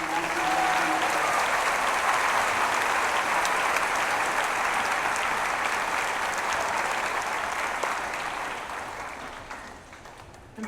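Sustained applause from a large audience honoring educators at an eighth-grade event, loud and even for most of the stretch before tapering off near the end.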